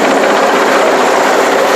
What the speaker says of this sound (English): the Mi-17 helicopter of the Ghana Air Force we are seeing right now